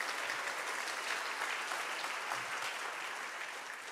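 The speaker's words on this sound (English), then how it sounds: "How about a round of applause for our St." An audience at a meeting gives a round of applause for a St. Mary's Cathedral group, a dense, even wash of many hands clapping that holds steady for the whole stretch and tapers slightly at the end.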